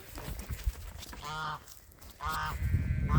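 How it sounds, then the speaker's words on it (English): A noisy farm goose honks in two loud, harmonic bursts with a short gap between them, close by, against outdoor background noise. "we come across Gus Gus, our noisy goose."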